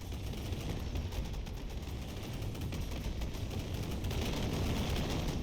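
Weapons firing in the naval combat game From the Depths, a dense, continuous rumbling barrage of rapid gunfire and blasts, loud and sustained throughout with no talk.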